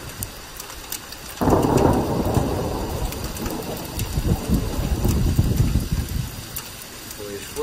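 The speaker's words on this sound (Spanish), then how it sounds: "Pues fuerte tormenta y granizada en estos momentos sobre Santander." A hailstorm with thunder over Santander: a dense, loud roar of falling ice and rain sets in abruptly and holds steady, with deep thunder rolling underneath.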